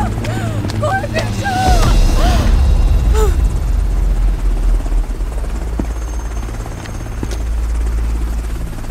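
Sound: helicopter

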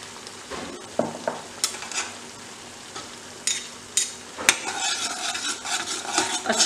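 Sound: stirring honey chilli potatoes in a pan

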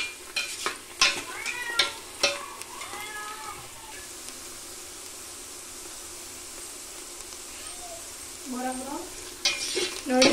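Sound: onions frying and being stirred in a pan for masala rice

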